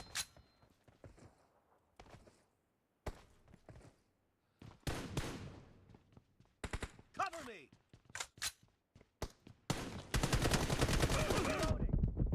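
Bursts of gunfire in the mobile battle game PUBG Mobile, scattered single shots and short volleys building to a sustained loud barrage at the end, with thuds and footsteps between.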